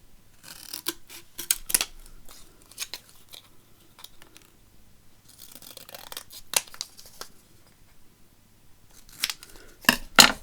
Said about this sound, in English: I'll just cut on the inside of that.